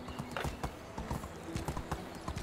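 Horse hooves clip-clopping in a rapid, steady gait while riding in the medieval village game Medieval Dynasty, close and moderately loud with no voices.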